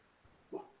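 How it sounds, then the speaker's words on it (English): A dog whimpers and lets out a soft yelp or two indoors, faint and brief against a quiet background. "I apologize for my dog there."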